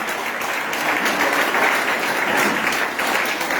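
A church congregation at a worship service in Guiglo (Zagné) bursts into loud, sustained applause, dense overlapping clapping that fills the space without a pause.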